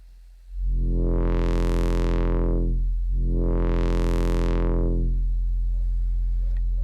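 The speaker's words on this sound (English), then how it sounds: "which will sound something like this in low pass filter behavior." A modular synth voice on a Frap Tools system runs through a Kunsa low pass filter, a loud harmonic drone whose brightness sweeps open and closed twice in slow, smooth arcs, with no talking.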